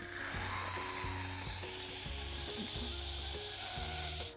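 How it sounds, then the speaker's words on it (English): Steam rushes from an Instant Pot's quick release vent as it is switched to venting, a steady broadband hiss lasting throughout with a faint rhythmic low pulsing underneath, loud and close with no talking. "we're gonna turn it to quick release, which is turning it to venting so all the steam will come out"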